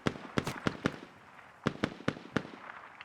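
Sharp gunshots fired in the video game Squad, around eight distinct cracks in two uneven bursts, loud and close, with no talk over them.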